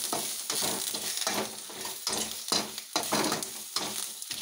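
Curry leaves, three or four sprigs, drop into hot oil as tempering for a mixed vegetable sambar, giving a loud, steady crackling sizzle with stirring scrapes, close and alone.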